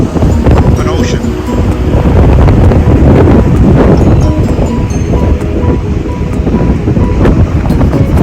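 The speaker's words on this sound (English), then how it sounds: "A little bit windy here." Strong wind roars steadily against the microphone by the ocean in Australia, loud and continuous, with surf rumbling underneath and a voice faintly audible.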